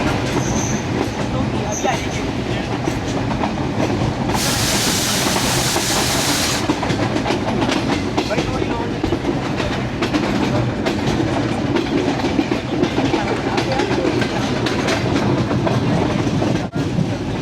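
A train rumbles steadily along the tracks in heavy rain, passing Shahdara Bagh Junction on the Rawalpindi–Peshawar line, with continuous wheel clatter, a burst of hissing noise and occasional squeals.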